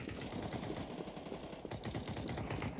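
Rapid automatic gunfire from a new weapon in the video game Deus Ex, a dense continuous rattle of shots lasting a few seconds, fairly faint and steady.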